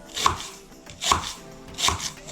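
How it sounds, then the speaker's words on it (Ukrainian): Three steady knife strokes cut an onion into half-rings on a board, each a crisp close thud with brief gaps between them. "Цибульку нарізаю на півкільцями."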